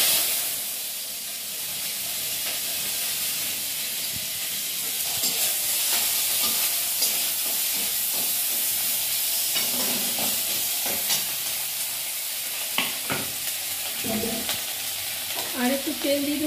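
Ginger hits hot oil in a pan and sizzles with a steady hiss, broken by scraping stirs and brief spatters, close and without talk.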